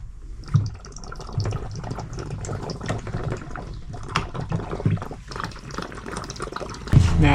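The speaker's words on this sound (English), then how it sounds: "Now the hot water tank is refilling." Water gushes and trickles steadily as a camper van's hot water tank refills, a continuous rushing flow with small splashes and knocks.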